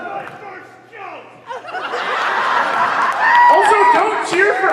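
A convention audience cheers and laughs in a crowded hall, swelling from scattered chuckles into sustained, loud crowd noise with hoots and voices.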